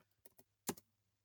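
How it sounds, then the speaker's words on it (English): A few keystrokes on a computer keyboard while entering spreadsheet data: two soft clicks, then one louder, sharper clack, close and quiet, against near silence. "It'll do it while you're typing in your data"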